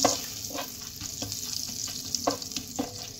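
Dried red chilli, cinnamon, cloves and cardamom fry in hot oil for butter chicken, a steady close crackle broken by several scraping stirs at irregular intervals.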